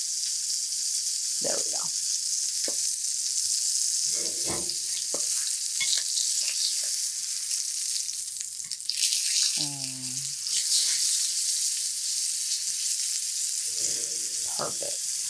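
Salmon fillet frying skin-side down in a pan for crispy skin, a steady sizzle running throughout with brief utensil clinks, while a person talks intermittently over it.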